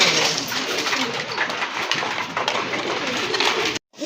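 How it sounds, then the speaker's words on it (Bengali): Satinette pigeons cooing close by, low throaty coos repeating over a soft background hiss, ending abruptly. "এটা কিন্তু খুব ভালো ডাকে আর সম্পূর্ণ রানিং কবুতর"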